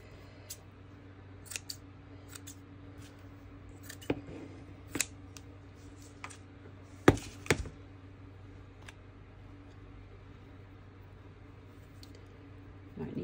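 Scissors snipping through cloth while decorating a junk journal cover, a few quiet, sparse crisp cuts and rustles spread over a low background hum, with one louder burst of snips midway.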